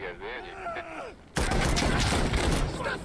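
Dense, loud gunfire in Insurgency: Sandstorm erupts suddenly and continues as rapid, overlapping shots, preceded by a strained voice groaning.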